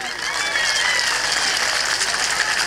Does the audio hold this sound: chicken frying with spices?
no